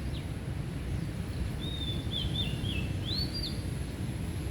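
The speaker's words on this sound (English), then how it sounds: "listen to those birds" Birds singing in a park in Hanoi: a few thin, high chirps and short warbled phrases, faint and intermittent over steady low traffic and city rumble.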